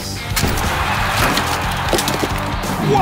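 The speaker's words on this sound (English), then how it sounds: "Motosaurus makes a mess of the tire stack with an epic smash." Monster truck smashing into a stack of tires during a Hot Wheels monster truck tournament, a loud, dense crashing and splintering roar that runs for about three seconds without a break.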